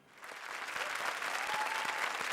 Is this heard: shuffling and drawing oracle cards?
no